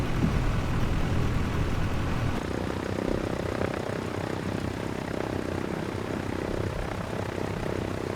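A propeller airplane engine in Microsoft Flight Simulator X, flying with cargo, drones steadily and evenly at a constant loud level throughout, with no talking.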